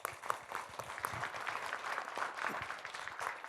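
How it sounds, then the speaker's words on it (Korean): Quiet applause from an audience at a government public forum on regulatory reform, steady scattered clapping heard faintly and at a distance. "박수 한번 보내주실까요?"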